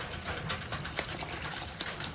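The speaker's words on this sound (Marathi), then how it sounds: "आणि पाणी ओतायचं आहे" Water is poured over freshly cut wild mushrooms to wash them in salted water: a steady close gush and splash of liquid lasting the whole moment, with a few brighter drips near the end.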